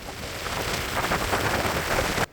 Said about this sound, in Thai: ระหว่าง ทางเนี่ยฝนก็ตกอย่างหนักเลยนะครับ